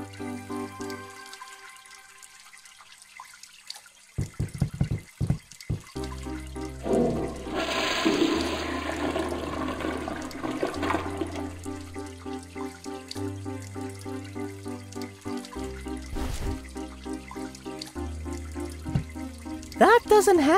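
Shower water running in the video game Unusual Findings, a steady hiss of flowing water under background game music and tones, with a loud flush-like rush partway through.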